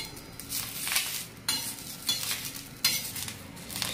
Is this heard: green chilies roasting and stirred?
yes